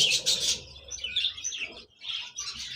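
Chicks chirping in a breeding box cage, a busy stream of close, high tweets and calls with a short pause near the end.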